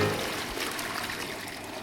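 A toilet flushes with a steady, loud rush of swirling water that fills the whole stretch and tapers only slightly toward the end, with no voices.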